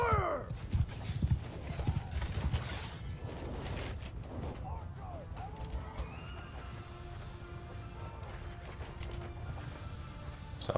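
Cavalry horses gallop in Bannerlord, a steady rumble of hoofbeats with loud neighs and whinnies over battle noise and clanking gear, dense and continuous throughout.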